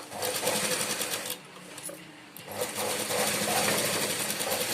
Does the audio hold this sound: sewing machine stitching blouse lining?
yes